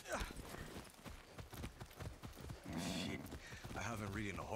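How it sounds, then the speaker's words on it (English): Horse hooves clip-clop in a steady walking rhythm in the video game Far Cry 6, mixed under game sounds and voices talking. "Oh, horsey."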